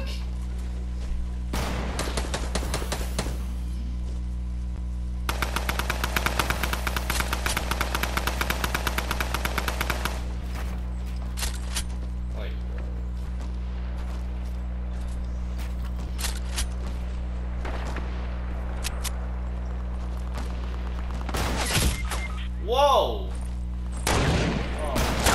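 Bursts of automatic and machine-gun fire in a video game cut in and out over a steady low engine-like hum, with loud volleys early and sporadic shots later, and a player shouting at times.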